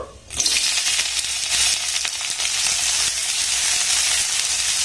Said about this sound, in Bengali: পেঁয়াজ আর লঙ্কাটাকে একটু নাড়াচাড়া করে ভেজে নেব।